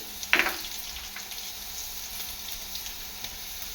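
Garlic and curry leaves sizzle in hot oil in a frying pan for a Kerala-style clam pickle, a steady close frying hiss with one brief loud spatter burst near the start and small crackles after.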